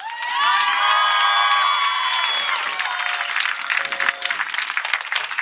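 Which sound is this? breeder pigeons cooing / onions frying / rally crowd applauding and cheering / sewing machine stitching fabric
rally crowd applauding and cheering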